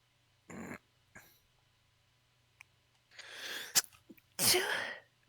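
A short, high-pitched sneeze likened to a kitten's is followed by a louder, breathy second sneeze, both close to the microphone in a quiet room, with small clicks between them.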